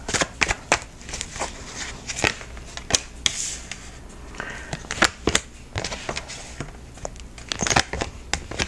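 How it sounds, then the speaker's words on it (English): Tarot cards being shuffled and pulled by hand, a series of sharp riffling snaps and papery slides in uneven bursts, close and fairly crisp. "I'm going to pull three cards and see what intuitively I have for this week"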